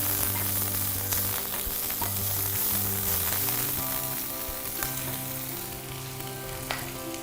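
Chicken slices hiss and sizzle continuously in a hot pan with softened onion for an iftar noodle chicken roll, with a steady, tonal hum running underneath.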